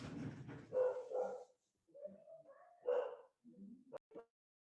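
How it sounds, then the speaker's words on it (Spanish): A dog barks several times nearby in short, uneven bursts, with quiet gaps between them and a few higher yips toward the end. "te voy a ver a quién le ladra el perro"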